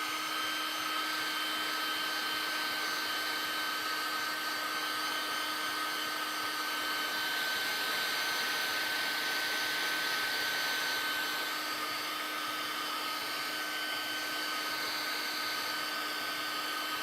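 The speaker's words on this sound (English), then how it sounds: "I'm going to blow dry this shirt front" A hair dryer blows steadily on a painted shirt front, a constant whooshing roar with a faint motor whine, loud and unbroken throughout with no talking.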